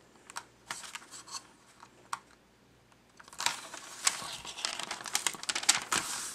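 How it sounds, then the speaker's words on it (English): Backing paper is peeled off a double-sided mounting adhesive sheet, with soft crinkling and papery tearing. The sound starts as scattered faint ticks and then turns into a denser, louder crackling stretch, close up and with no talk. "peel away one backing sheet and apply it directly to your frame"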